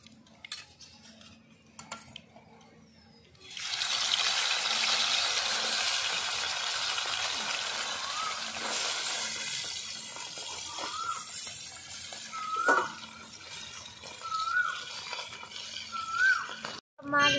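Charapona fish frying in a pan, a bright continuous sizzle that starts abruptly after a few quiet seconds, with metal spatula clinks and scrapes against the pan as pieces are turned and lifted.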